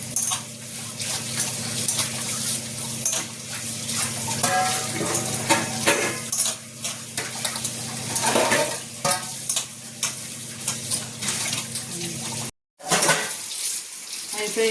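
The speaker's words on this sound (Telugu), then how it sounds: "ఇక అన్నం తినేసిన గిన్నెలు తోమేస్తే ఇక పని అయిపోయినట్టే" Used rice-eating vessels get scrubbed and washed at a tap, with running water, scraping and clinking of steel dishes throughout, a brief gap near the end, and a voice faintly present at times.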